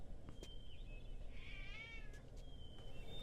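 A cat in the video game Gabriel Knight 3 gives a single faint, drawn-out meow over a quiet background hiss.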